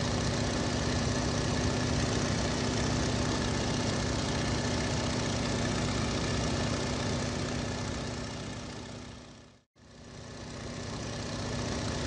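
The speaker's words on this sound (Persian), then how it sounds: "هواپیمای سبک." Light aircraft engine running at a steady drone, loud and continuous, with a brief near-silent dropout toward the end before the hum resumes.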